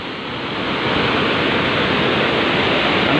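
Water spray hisses in a loud, continuous roar that builds slightly in the first second and then holds steady, with no voices on a dry, fair-weather day.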